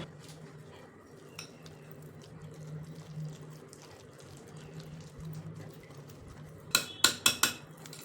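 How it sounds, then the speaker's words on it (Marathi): Water is poured into jowar flour batter and stirred, a soft running pour under quiet mixing, ending in a few sharp clinks of a utensil against the bowl. "थोडं पाणी घालून मिक्स करायचं आहे,"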